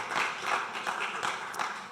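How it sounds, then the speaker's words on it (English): An audience at a weekly community meeting gives a short burst of applause, a brief patter of clapping hands that fades out within two seconds. "So a round of applause for yourselves for being here."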